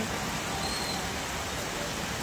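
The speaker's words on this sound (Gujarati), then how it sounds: "ટુ વ્હીલર ચાલકના ટાયર ડૂબી જાય એટલો વરસાદ છે તે અત્યારે મન મૂકીને વરસી રહ્યો છે" Heavy monsoon rain pours over Vadodara city streets during a thunderstorm, deep enough to flood the roads. It makes a steady, dense hiss with no break and no voices.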